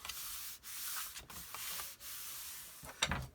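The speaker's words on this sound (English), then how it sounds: "just kind of burnish a little bit" Paper on a file folder album is burnished with steady back-and-forth rubbing strokes, close and faint, in a few passes separated by short breaks.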